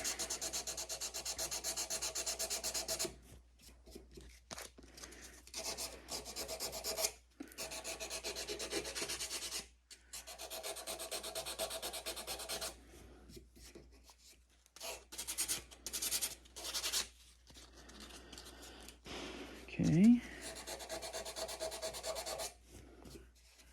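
A G10 longbow tip is sanded by hand with close, steady rasping strokes in repeated bursts separated by short pauses, and a single brief word is spoken near the end.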